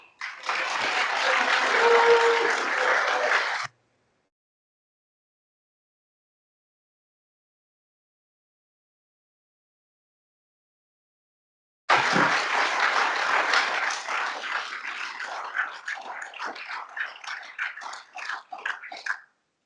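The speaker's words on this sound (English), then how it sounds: "after that round of applause" Applause from the room at a development management committee meeting follows a speech, a short burst of clapping that cuts to silence, then resumes and thins out into scattered claps.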